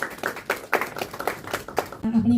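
Scattered audience applause at the inaugural session of a medical conference: a run of sharp, uneven claps that builds, then thins out, with a brief steady tone at the very end.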